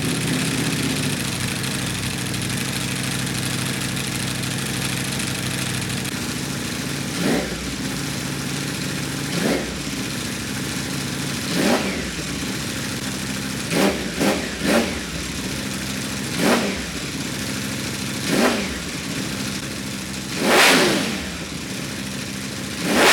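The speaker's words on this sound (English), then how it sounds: "Let's hear the exhaust sound right now." A 2021 Ducati Panigale V4 Speciale R superbike engine idles steadily, punctuated by repeated sharp throttle blips and revs from its exhaust, loud and close.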